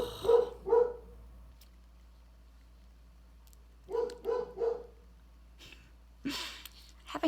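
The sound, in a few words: dogs barking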